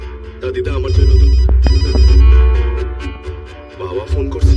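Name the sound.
phone ringing, an incoming call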